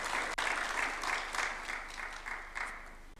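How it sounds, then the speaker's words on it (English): An audience claps steadily to welcome a speaker at a formal Kenya–Japan development cooperation event at State House in Nairobi, a dense and even wash of applause that holds throughout and sounds moderately distant. "Let's welcome him with a clap"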